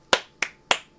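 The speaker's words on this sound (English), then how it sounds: "Somebody else applaud with me so I don't feel like a lone nut." Three sharp hand claps ring out in slow, even succession, close and crisp, each with a short decay, isolated with no talking.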